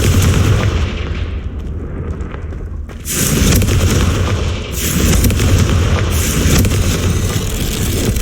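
Confringo fire spell explosions in the video game Hogwarts Legacy: several loud, booming bursts in close succession, each flaring up over a constant heavy roar, with no talking.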